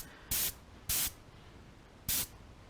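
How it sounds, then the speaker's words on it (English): Airbrush spraying paint onto a crappie crankbait: three short hissing bursts, each about a fifth of a second, close and loud, separated by quiet gaps. "I'm just gonna clean out my airbrush here."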